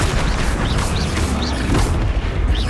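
A Flipendo spell is cast during combat in Hogwarts Legacy, heard as a dense, loud booming blast against a continuous thick background of magical effects and rumble.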